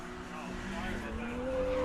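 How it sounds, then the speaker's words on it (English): Inline-six Nissan S-chassis drift car engines rev high and whine steadily at Sebring, pitch climbing under a faint tire squeal, fairly close. "Here we have a couple S chassis cars. One sounds like it has a inline 6."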